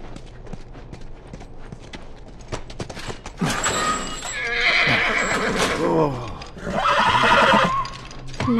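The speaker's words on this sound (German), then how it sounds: "Bleib beim Pferd." In the video game The Last of Us, hooves clop softly before a horse lets out loud, close whinnies, one after another, with a shorter neigh near the end.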